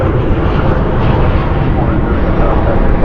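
An airliner landing at night at Dallas/Fort Worth with spoilers up and thrust reversers deployed, a loud, broad, steady engine roar filling three seconds under speech.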